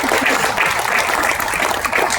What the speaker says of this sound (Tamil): ப்ளீஸ் ஒரு கைத்தட்டல் கொடுங்க